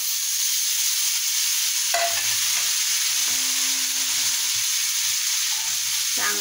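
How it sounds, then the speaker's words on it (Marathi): Chopped cluster beans (gavar) fry in hot oil with a spiced tempering, giving a steady, loud hiss and crackle throughout, with a few clinks and scrapes of stirring mixed in and no talking. "या तेलामध्ये फोडणीमध्ये भाजून घ्यायचा"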